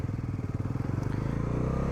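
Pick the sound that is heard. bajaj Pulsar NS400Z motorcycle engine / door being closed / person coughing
bajaj Pulsar NS400Z motorcycle engine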